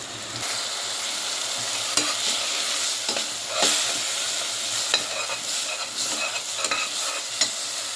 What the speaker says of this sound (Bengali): এখন দিয়ে দিব একটু করে জল।